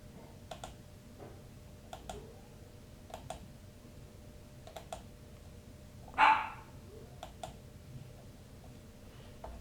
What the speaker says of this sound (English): My dog is outside the door. He's barking. He wants to come in.